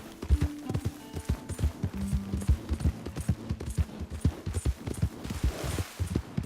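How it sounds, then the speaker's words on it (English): Horse hooves clip-clop in Red Dead Redemption 2, a steady run of close, distinct hoofbeats, with a short neigh-like tone and faint game ambience under them. "My horse! Am I glad to see you?"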